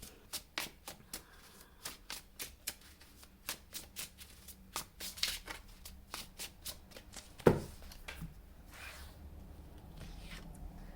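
Tarot cards are shuffled close by in quick riffling bursts and soft slaps, a rapid irregular patter of papery flicks that is fairly quiet, with a sharper tap partway through and rustling handling near the end.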